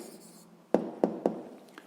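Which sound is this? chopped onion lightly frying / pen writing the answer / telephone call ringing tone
pen writing the answer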